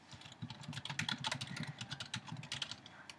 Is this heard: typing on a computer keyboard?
yes